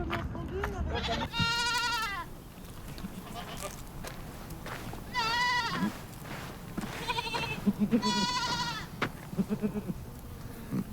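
Goats on a tree in Morocco bleating loudly, several wavering repeated calls close by, with people talking between and under them.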